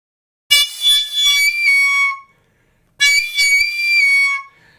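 Two separate blown notes from a wind instrument with one finger hole slightly open, each about two seconds long, sounding airy, unstable and impure with a wavering shrill whistling tone.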